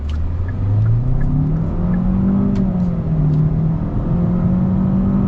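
A 2021 Hyundai Sonata Limited with a 1.6 turbo engine accelerating hard from inside the cabin, a loud engine drone rising steadily in pitch, briefly dipping at a gear change and then climbing again over constant road noise.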